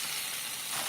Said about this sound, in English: See, I'm frying my pasta now in the sauce.